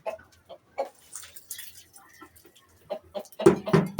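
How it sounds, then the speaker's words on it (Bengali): Several short clucks from chickens, including naked-neck birds, come in scattered bursts, growing louder and denser near the end, with quiet pauses between calls. "এখানে আমি রাখছি গলা শিলা মুরগি পাকিস্তানি মুরগি"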